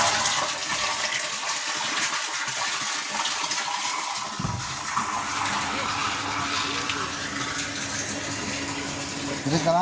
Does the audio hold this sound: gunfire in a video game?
no